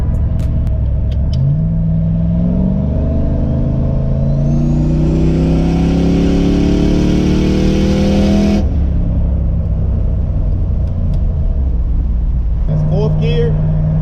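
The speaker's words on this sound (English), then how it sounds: "let's do a little third gear pull real quick and data log it" A turbo LS-swapped Nissan 240sx pulls hard in third gear, the engine note climbing steadily and loudly for several seconds, then cutting off abruptly as the throttle lifts, before settling back to a lower drone.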